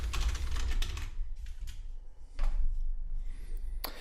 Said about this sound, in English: in the search bar, just type in WooCommerce.